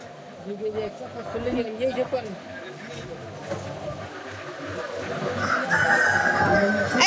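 Chickens cluck and crow repeatedly at a chicken seller amid busy market chatter, with people talking close by and the noise growing louder toward the end.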